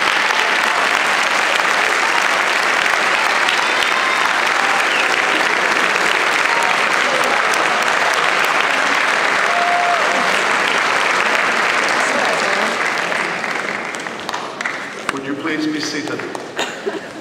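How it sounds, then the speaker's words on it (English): A graduation closing-ceremony audience claps long and loud in sustained applause that fills the hall, thinning out toward the end. "would you please give them a heartfelt clap for all their support and love to you over the past number of years"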